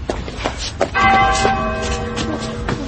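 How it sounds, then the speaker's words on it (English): An old school bell rings loudly and continuously in an audio-drama sound effect, a sustained metallic ringing with overtones over a noisy, clattery background. "It's from the school. It's the old bell."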